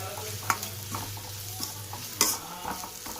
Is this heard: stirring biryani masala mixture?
yes